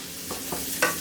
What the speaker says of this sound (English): Fry your meat.